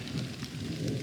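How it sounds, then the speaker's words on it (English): A rainstorm with thunder, heard from inside a truck during a storm at the LBJ National Grasslands, gives a dense, continuous patter with a low rumbling undertone, steady and close throughout this short moment, with no voices. "we're just gonna hunker down for an hour or two until this storm passes"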